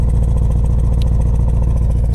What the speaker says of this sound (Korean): 기본적인 공회전시 배기음도 좀 소리가 납니다